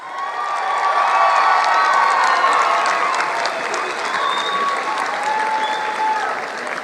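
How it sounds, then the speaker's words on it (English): A graduation crowd at South Mountain Community College's commencement, set against the mountains, bursts into sustained, loud applause mixed with cheering and whistles. It swells steadily and holds for the whole stretch. "Let's give them a round of applause."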